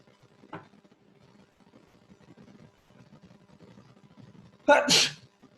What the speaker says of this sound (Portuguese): Não, foi espirro.